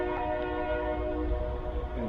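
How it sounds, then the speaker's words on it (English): A passing train sounds a sustained horn, heard steadily through the moment over low rumbling rail noise, moderately loud and without talk. "And there's the train."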